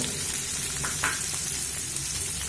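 Chopped onion fries in a pan over a medium flame while cooking brinjal bharta, giving a steady, close hiss of oil with a couple of soft stirring scrapes, and no voices.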